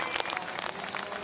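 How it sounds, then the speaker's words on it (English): Crowd of surf fans at the New Zealand Pro surfing contest cheering and clapping, a dense steady roar of applause with scattered shouts, fairly loud and continuous. "The crowd is loving it, turning out in force."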